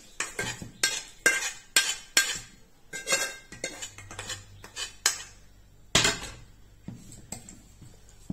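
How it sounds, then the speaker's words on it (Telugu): A spoon stirring pickle chutney in a metal vessel, with a series of sharp clinks and scrapes at an uneven rhythm, close and distinct against quiet. "ఇప్పుడు శుభ్రంగా కలిపేయడమే. ఇది బాగా కలిపిన తర్వాత అప్పుడు ఉప్పు కారం చూసుకుంటే సరిపోతుంది."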